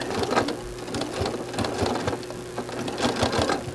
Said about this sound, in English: I'm going to sew just a couple threads width below that stripe